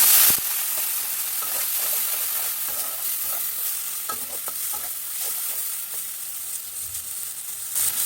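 Garlic and ginger paste sautéing with a splash of water in a pan, a steady close sizzle with light stirring scrapes throughout.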